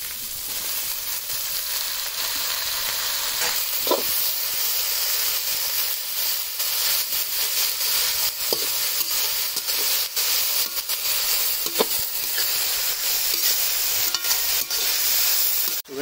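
Mixed vegetables with cabbage, for a spring roll filling, fry in a pan with a loud, continuous hissing sizzle, broken by scattered clicks and scrapes of stirring throughout.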